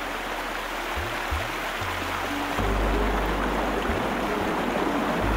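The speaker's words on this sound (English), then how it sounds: "Within minutes, the parched ground had become a raging torrent." Rushing floodwater from a sudden downpour surges across once-parched ground and fills a dry riverbed, a loud, steady broadband roar that swells even heavier partway through, with low rumbles underneath.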